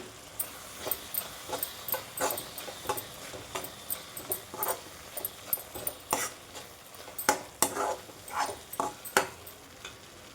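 Ridge gourd curry with sesame powder stirred in a pan, a run of irregular scraping and clinking strokes from a spoon against the pan over a faint sizzle.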